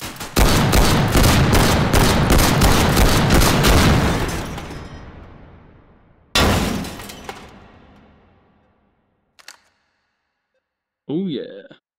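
A Saiga shotgun fires in rapid succession in the VR game H3VR, giving a loud, fast string of booming shots, then a single blast with a fading echo, followed by a couple of faint clicks and a short voice.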